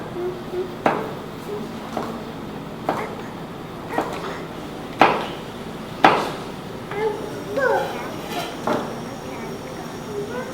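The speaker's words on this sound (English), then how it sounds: "Julienne is simply a style of cutting." A knife julienne-cuts vegetables on a cutting board: sharp, separate chops landing about once a second, fairly close, with a few quieter clatters and speech nearby.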